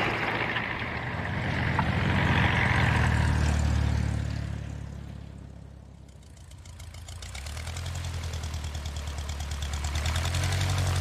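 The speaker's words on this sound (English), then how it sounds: "It's like this airplane is running on diesel." An airplane engine idles with a rough, diesel-like drone in the video game The Sky Crawlers: Innocent Aces, a steady low rumble that swells, dips briefly, then returns, with no voices over it.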